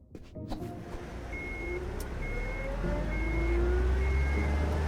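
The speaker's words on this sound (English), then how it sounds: "Crap, they started the engine." Truck engine starting and idling in the video game Unmetal, a steady low rumble that grows slightly louder, with faint tonal beeps and whines over it and no talk.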